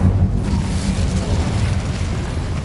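An Incendio fire spell from Hogwarts Legacy erupts in a loud, whooshing burst of flame, a dense roaring blast that holds steady and then fades slightly, with no talking over it.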